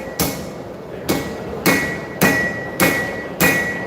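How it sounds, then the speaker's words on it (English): A hammer strikes a knife handle on an anvil during live forging at a knife show, six sharp ringing blows at a steady, unhurried pace, close and loud with no talk. "we just come in a little bit, forge more on top of the anvil"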